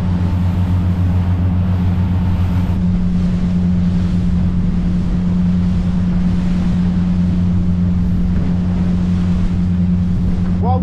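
A motorboat engine drones loudly and steadily, a deep humming throb that holds constant throughout with a faint wash of water underneath.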